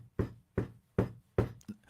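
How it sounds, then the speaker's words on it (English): Knuckles rapping on wood in four evenly spaced, crisp knocks with a softer fifth tap at the end, close and clear with no talking. "let me knock on wood"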